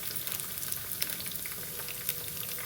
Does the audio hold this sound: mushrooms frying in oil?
yes